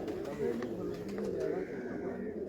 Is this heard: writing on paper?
no